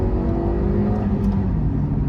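A Honda CR-Z HPD Edition engine hums and revs steadily at close range, with no voices over it.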